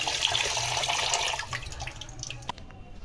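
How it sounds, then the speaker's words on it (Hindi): Tap water runs into a kitchen sink full of dirty dishes, a steady broadband splashing rush that eases off after a couple of seconds, with a few drips and clinks near the end. "बर्तन छोड़ दिए मैंने, बर्तनों में भरा पानी"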